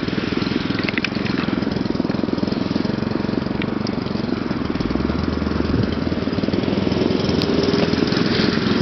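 A small motorized bicycle engine runs continuously during a ride, a loud steady buzzing drone with rattle and wind noise, close to the listener and without speech.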